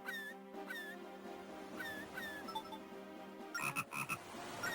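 Frogs croak in The Legend of Zelda: Phantom Hourglass, a series of repeated chirpy croaks over steady game background sound, with a busier burst near the end and no talking.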